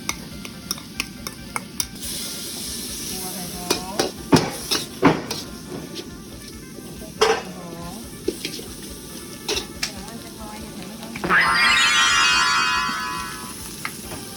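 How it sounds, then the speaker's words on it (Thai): Curry paste is stir-fried in a pan with irregular scraping and tapping strokes of a spatula against the metal, then a loud, sustained sizzle near the end. "ตั้งกระทะใส่เครื่องแกง"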